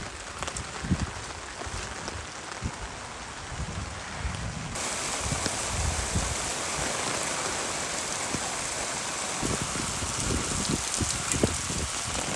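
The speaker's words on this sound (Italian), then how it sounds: "sono arrabbiato con il meteo perché sta continuando a piovere di continuo" Steady rain falls on a cloudy day at an outdoor work site where a school bus is being painted, a continuous broadband hiss with scattered drop patter that thickens partway through, with no talk.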